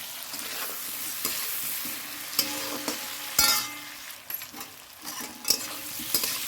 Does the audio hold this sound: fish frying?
yes